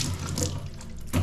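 A kitchen tap runs water while something is being washed, a steady close splashing hiss that swells briefly at the end, with no talk.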